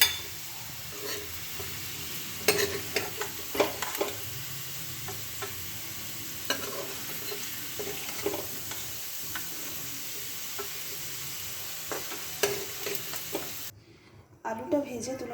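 Potatoes fry in oil in a wok, making a steady, moderate crackling sizzle punctuated by scraping stirs and clicks that cut off abruptly near the end.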